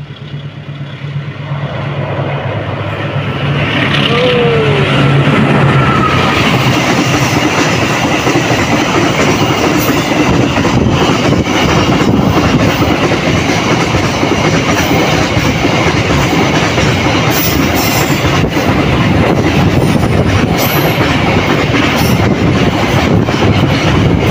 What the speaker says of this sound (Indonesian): Kereta api barang sampai di stasiun Kalimas.